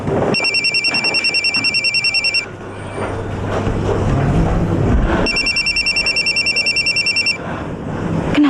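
A telephone rings with a call from a hospital, two loud bursts of rapid electronic trilling separated by a pause, close and alone over low room noise.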